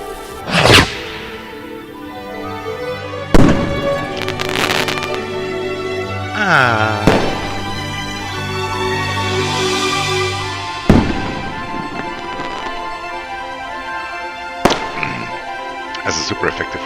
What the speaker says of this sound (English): and lit the firework.